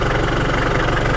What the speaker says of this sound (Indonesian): untuk mendengar mesinnya boleh kita buka mesinnya sebentar